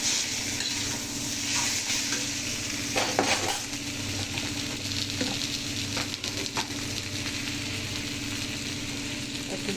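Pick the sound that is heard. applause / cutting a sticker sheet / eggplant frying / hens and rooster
eggplant frying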